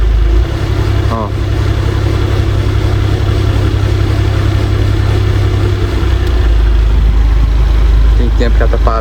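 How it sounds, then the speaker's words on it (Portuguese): A Chevrolet Silverado pickup's engine idles steadily and loudly, a constant low rumble holding through the stretch with a brief lift near the end, while a person talks over it. "eu acabei de ligar a caminhonete"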